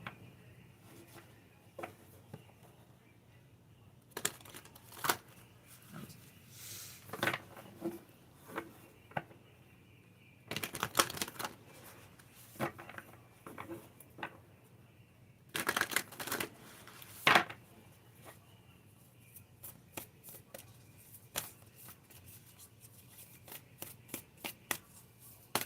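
Wild Offering Oracle cards are shuffled by hand in repeated bursts of riffling and flicking, some quick rapid series and some slower single slaps, fairly close and quiet with pauses between.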